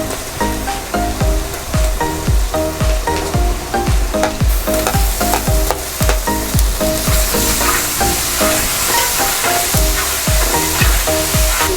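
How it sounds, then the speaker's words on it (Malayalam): Green chillies frying loudly in a pan of hot oil for a Kerala mutton varattiyathu, a dense continuous sizzle broken by repeated clinks and scrapes from stirring, with no talking. "പച്ചമുളകാണ് ഇടുന്നത്."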